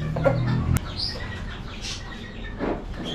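A Brahma chicken clucking nearby, a few short throaty clucks and a brief squawk over faint background noise, no talk.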